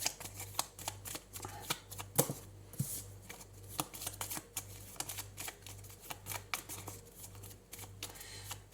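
Tarot cards are shuffled and handled in a long run of quick, crisp riffling snaps and taps, close and fairly quiet, steady over a faint low hum, with no talking.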